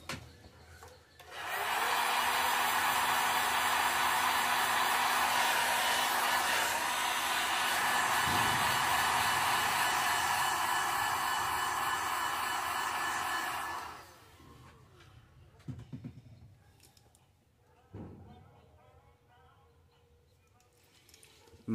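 A hair dryer heat-sets paint on a hand-painted golden shiner fishing lure, blowing as a loud steady whir for about twelve seconds before switching off, followed by a few quiet handling sounds.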